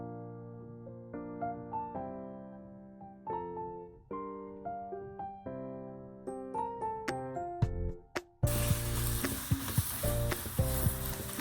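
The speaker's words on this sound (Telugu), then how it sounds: "ఇప్పుడు నేను పరాటాని వేసి కాల్చి" A paratha roasting on a hot pan over a high flame gives a loud, steady sizzle that bursts in suddenly after a stretch of melodic music and continues to the end.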